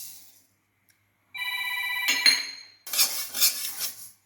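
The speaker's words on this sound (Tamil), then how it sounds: "கம்பையும் நல்லா வறுத்துக்கோங்க." Millet roasting in a pan and stirred with a metal utensil: after a near-silent start comes a sustained metallic ringing scrape, then several rapid scraping strokes against the pan, close and fairly clear.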